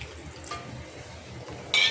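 Water pours and splashes steadily into a wok for Kolhapuri-style misal curry, with a brief louder gush near the end.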